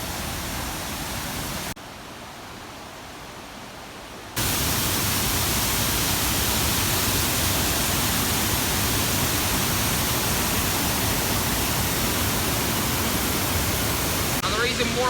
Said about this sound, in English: Now, this first waterfall is called Gwyn, I think, something like that.